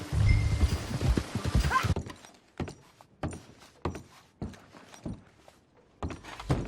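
Steady clip-clop of horse hooves in Red Dead Redemption 2, evenly spaced thuds after a louder rumbling opening, moderately close and fairly quiet.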